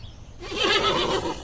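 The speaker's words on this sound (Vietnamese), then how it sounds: "Horse." A horse whinnies loudly and close, one drawn-out neigh with a shaky, descending tremolo that starts after a brief quiet moment and fills the rest of the short clip.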